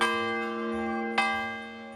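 Church bell struck once near the middle, a bright metallic clang over a long sustained ringing hum that carries through the whole stretch, fairly close and clear with no voices.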